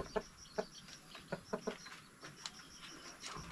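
Rhode Island Red rooster and hens on a farm, clucking in a string of short, quiet calls spaced irregularly across a few seconds, with low background noise and no talking.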